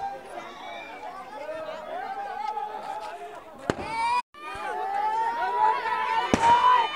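Firecrackers burst during a Diwali celebration in an Indian village, a few sharp cracks standing out over steady crowd chatter and voices close by.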